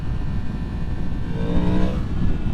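A 2023 Yamaha MT-10 motorcycle with a flashed ECU revs hard on the throttle, its engine note close and loud and rising in pitch through a sustained pull.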